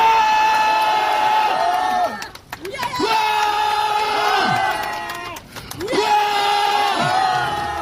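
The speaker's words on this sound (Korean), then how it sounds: "여기서 대통령을 응원하는 우리의 큰 함성 부탁드립니다." A large crowd at a political rally in support of the president roars in loud, sustained cheers, rising in three long waves with short dips between them.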